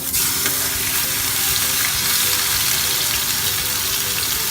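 Marinated pork for pork steak hitting a hot pan, giving a loud, dense, continuous sizzle that stays steady throughout, close up, with no talk.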